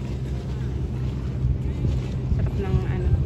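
Boat travelling on the Chao Phraya River in Bangkok: a steady low engine and water rumble with gusty wind buffeting the microphone throughout.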